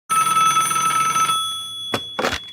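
A bell-type telephone rings with a bright, metallic, sustained trill for over a second, then stops, followed by two short bursts, one a soft clack and one a louder rattling sound, like the handset being picked up.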